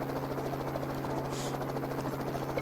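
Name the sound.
helicopter flying low, from a visual novel game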